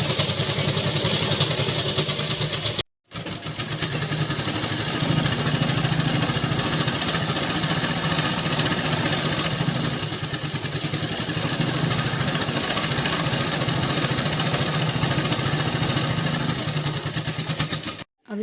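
A sewing machine stitches fabric strips for a hand bag with a steady, close whirring clatter that runs almost unbroken, pausing briefly near the start.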